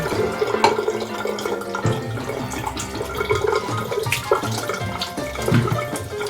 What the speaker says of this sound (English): And then I'll rinse it out a little bit with some more RODI water.